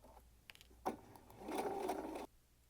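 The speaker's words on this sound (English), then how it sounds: "The basting stitch is going to be the longest stitch on your machine." A sewing machine runs a long basting stitch through garment underlining, a soft close whir of about a second and a half starting with a click and stopping abruptly.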